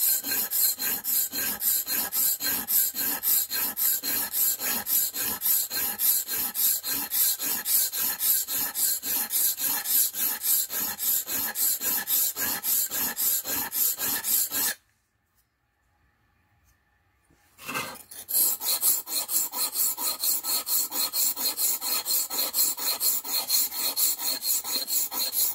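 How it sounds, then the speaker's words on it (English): A file rasps steadily back and forth across the blade of a handmade neck knife, loud and rhythmic with fast repeated strokes, broken by a few seconds of silence before the filing starts again. "I'm not gonna keep sharpening it. Keep sharpening it."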